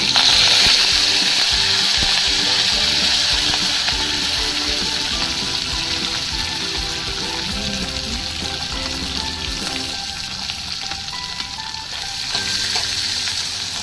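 Curry leaves and bhindi (okra) frying in a pan make a continuous loud sizzle, with occasional stirring, all heard up close without any talking.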